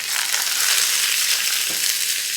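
Curry leaves drop into browned garlic in hot oil for a coconut chutney tempering, setting off a loud, close crackling sizzle that holds steady, with one sharper pop near the end.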